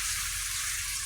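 Water poured into a hot frying pan during Bengali home cooking, bursting into a loud, steady hiss of sizzling steam close by for a brief moment.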